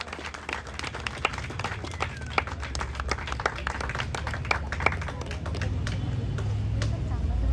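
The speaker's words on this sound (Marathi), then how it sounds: "जोरदार टाळ्या झाल्या पाहिजे." A crowd at a dahi handi Govinda pathak gathering breaks into dense, sustained clapping and applause that builds slightly toward the end, with voices mixed in.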